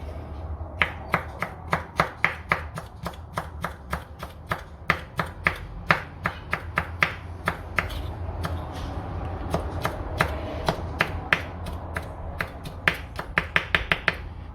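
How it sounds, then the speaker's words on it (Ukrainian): A knife chops pickled cucumber rapidly on a cutting board, sharp close taps in quick uneven bursts, with no talking. "Огірочок зараз поріжемо."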